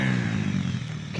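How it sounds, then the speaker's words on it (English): Motorcycles riding around a housing estate of abandoned, boarded-up houses, heard as a steady, rough engine drone in the background throughout the short moment. "can hear the motorcyclists in the background."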